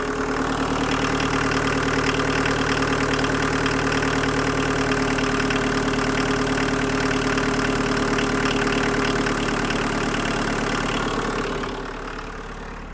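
A 1.6L turbo diesel car engine holds a steady high idle with a constant rattly drone and slight knock, close and loud, before the revs drop off near the end.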